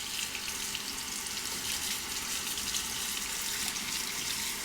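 Tap water runs continuously into a sink while a shavette razor is rinsed, a close, steady splashing hiss with no talk.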